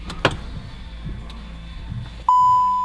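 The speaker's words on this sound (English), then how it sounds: "let's turn the ignition on and see what happens" A VW Transporter T6.1 converted to Tesla power gives a few faint clicks and ticks after the ignition is switched on, then a single clear, loud electronic warning tone starts and holds steadily to the end.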